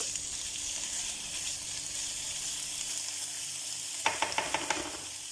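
Chicken breast frying with onion in a pan, a quiet steady sizzle and hiss that stays constant throughout, then a short run of clicking stirring taps near the end.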